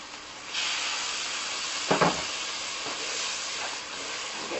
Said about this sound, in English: I'm going to start with 1 cup of boiling water.